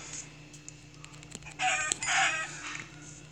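A chicken in a survival video game clucks and squawks in a few short bursts, fairly close, over a quiet backdrop with small clicks.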